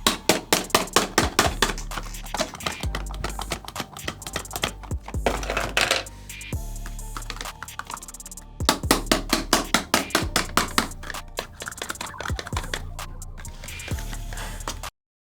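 Budget speed cube boxes are pulled from their packaging, giving a long run of quick, close plastic clicks, taps and rustles in uneven bursts, with a short lull midway and a loud clattering stretch afterward.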